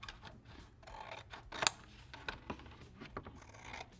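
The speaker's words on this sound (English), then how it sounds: "I'm gonna cut these out" Scissors snip through paper with pastel drawings, a series of faint, close, irregular crisp cuts and rustles with one sharper snip partway through.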